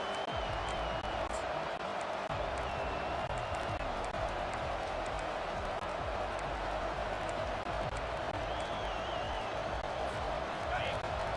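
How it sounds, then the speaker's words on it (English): Stadium crowd noise from a College Football 25 game, Florida versus Clemson, on a third-down defensive stand: a steady, loud roar of cheering that holds throughout with no breaks. "Decibels rising as the crowd gets behind this defense on 3rd down"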